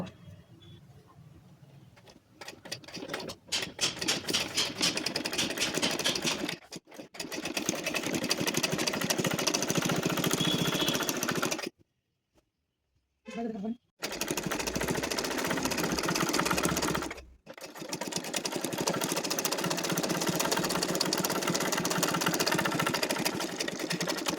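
An electric sewing machine stitches along the folded edge of lungi cloth in long, steady whirring runs with a fast mechanical chatter, stopping abruptly several times with brief silences between bursts.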